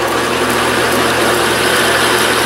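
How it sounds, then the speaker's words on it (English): A Hamilton 14-inch metal lathe runs at about 460 RPM, giving a steady, loud, unbroken mechanical hum and whir with a low motor drone, close up and without speech. "This is on my Hamilton 14-inch lathe, so I don't have variable speed on it."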